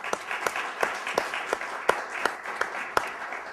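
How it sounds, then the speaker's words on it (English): An audience at an East African energy market panel applauds the panelists, with sharp claps landing in a fairly even rhythm at a modest, somewhat distant level, no voices on top. "let's give them a round of applause"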